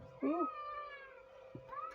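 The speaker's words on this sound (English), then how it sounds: "I don't know if you can hear a little girl next door." A distant, wavering high-pitched wail of a little girl crying next door rises and falls briefly in an otherwise quiet room.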